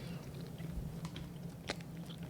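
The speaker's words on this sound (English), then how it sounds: "It honestly kind of bugs me that you're chewing it right next to the mic." Crumbl cookie being chewed right beside the microphone, with soft crunchy bites and mouth clicks over a faint background hum, close and fairly quiet.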